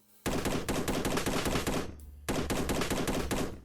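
Sustained rapid automatic fire from an unlimited-ammo SCAR-H assault rifle in a modded Nomad video game, loud and continuous for almost two seconds, then a brief break before a second long burst.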